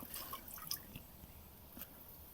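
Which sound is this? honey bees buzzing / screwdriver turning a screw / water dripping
water dripping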